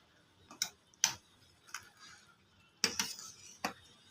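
A spoon knocks and scrapes against a pan while stirring an egg Maggi Mughlai paratha, five or six sharp, separate clinks spaced unevenly, close but fairly quiet, with no talking.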